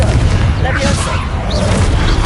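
A Confringo blasting spell in Hogwarts Legacy booms loudly amid a dense, continuous barrage of magical blasts and rumbles during a fast combat exchange, with a voice calling out over it.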